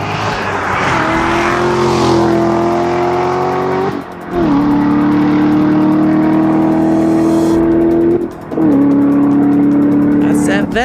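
A Chevrolet Corvette sports car roars past on a road near the Pacific Crest Trail, its steady engine drone rising and holding loud and close, followed by further cars passing in succession with brief gaps between them.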